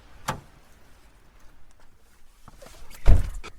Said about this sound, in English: sits back in the driver's seat of the car, closing the door.